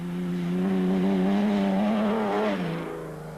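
The V-Motors off-road race car roars past close by at the Toyota 1000 race, its engine revving loud and steady, then the pitch drops as the car pulls away and the sound fades.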